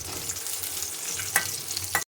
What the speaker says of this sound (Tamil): பூண்டும் காஞ்ச மிளகாவும் நல்லா வதங்கிச்சு